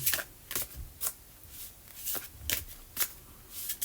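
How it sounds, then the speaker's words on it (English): Oracle cards are shuffled in quick, crisp bursts, about eight riffling flicks at a fairly even pace, close and fairly quiet. "Let's give it a little shuffle."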